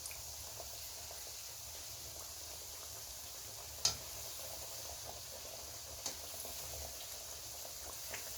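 Yeast doughnuts frying in hot oil give a steady, quiet bubbling sizzle throughout, with a sharp clink of a utensil about midway and another faint tap later.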